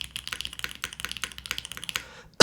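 Mechanical keyboard typing at a brisk, steady pace, with dense, crisp key clacks close to the mic, ending in a sharp louder burst of clatter.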